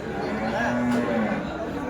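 Cows moo at the Dhule cattle market, where local desi cows are on sale: one long, low, sustained call under a steady murmur of crowd chatter.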